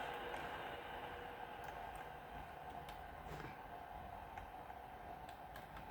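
A Virgin train rumbles at Birmingham New Street station, a continuous faint rolling hum with light clicks, no voices.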